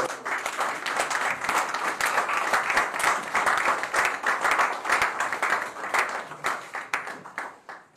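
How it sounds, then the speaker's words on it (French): An audience applauds at a governor's handover ceremony in Kinshasa. The clapping is dense and sustained for several seconds and fades slightly toward the end. "Avec vos applaudissements."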